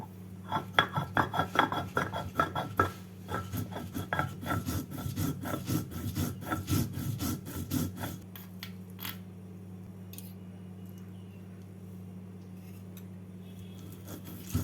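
Black cumin, green chilli and soaked Gobindobhog rice are ground into a fine paste by hand, a rapid rhythmic rasping and scraping for about eight seconds that then stops, leaving a low steady hum.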